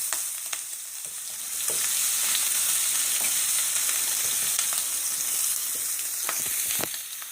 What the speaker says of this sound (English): just place it for a quick sear, maybe like a minute on each side